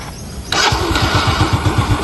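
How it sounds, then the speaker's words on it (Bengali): A scooter engine starts abruptly after a quiet moment and settles into a close, loud, steady idle with a regular pulsing putter. "আমরা বাইকটা স্টার্ট করে শোনানোর চেষ্টা করছি"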